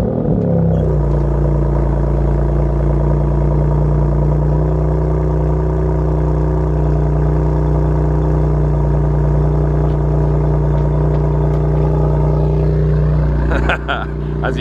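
A BMW M2 Competition with manual gearbox idles loudly and steadily just after start-up, a deep, even engine drone close by that holds for the full stretch, with a brief disturbance near the end.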